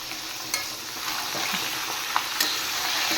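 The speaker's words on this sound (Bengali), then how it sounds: "এবার আমি চিকেনগুলো একটু ফ্রাই করে নেব।" Chicken fries in a pan with a steady close sizzle, broken by a few soft scrapes and clicks as it is stirred.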